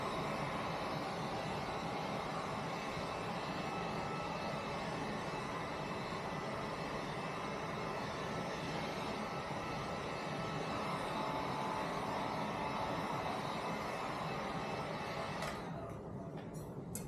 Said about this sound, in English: I'm going to go ahead and heat with the heat gun a little bit